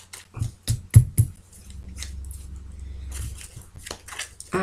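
A deck of tarot cards being shuffled by hand, with a run of sharp riffling snaps near the start followed by a steady soft rustle of cards sliding together, close and alone without talk.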